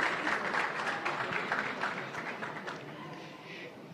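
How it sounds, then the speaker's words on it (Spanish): An audience applauds footballer Lúcio of Brazil at an event in Ecuador: a fairly faint, continuous wash of clapping from a crowd, with some voices mixed underneath. "Un fuerte aplauso para Lúcio."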